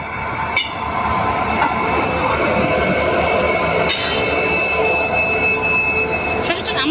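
A train pulls slowly into a station on a service bound for Siliguri, its steady rumble and wheel noise filling the scene, with occasional metallic squeals and clanks standing out over the continuous rolling sound.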